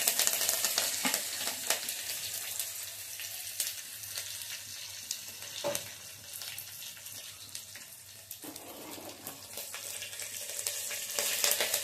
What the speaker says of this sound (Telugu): ఆయిల్ కాగిందండి, ఎల్లుల్లిపాయలు,